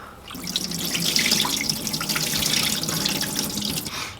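Water pours and drips off freshly rinsed rice as it is drained, a close, steady trickling and splashing with small drips, rising and easing over a few seconds.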